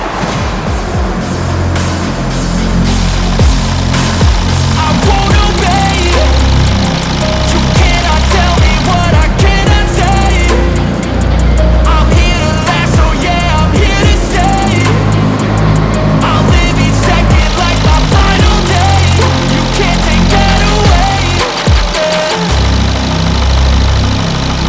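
A Volkswagen car engine runs loud and close, with a steady, rough idle and a knocking rumble that continues unbroken, heard during air conditioning checks before the condenser is replaced.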